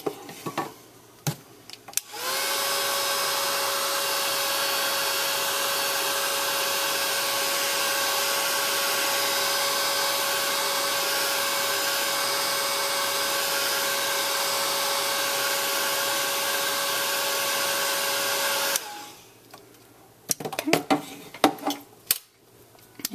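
A handheld craft dryer blows over a freshly stamped paper craft project. Its steady whirring hum runs unbroken for about sixteen seconds, close and alone, between brief handling noises at the start and end.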